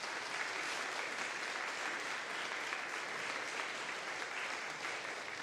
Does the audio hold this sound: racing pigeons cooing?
no